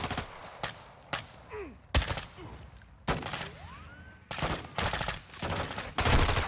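Gunfire in Call of Duty: Modern Warfare II during a prison break mission, with a string of sharp, loud shots and bursts spaced irregularly among sniper fire, plus whooshing effects between them.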